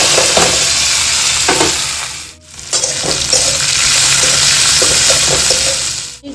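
Chopped onion frying loudly in hot oil with bay leaves and cumin, a dense continuous sizzle close by with stirring scrapes, briefly dipping once midway.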